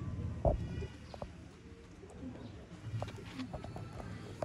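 Sialkoti black-faced pigeons coo softly in a loft, low murmuring calls scattered among rustles and faint background noise, with a sharper knock near the start.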